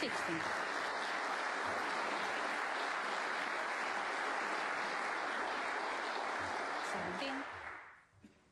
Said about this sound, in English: The burst of applause you just heard there was for the adjoining table